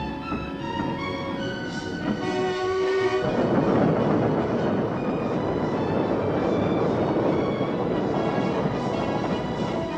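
Old retired railway carriages in a wiring train rumble along steadily. A brief tonal horn-like note sounds near the start, then the heavy rolling roar of the train continues unbroken, with no talking.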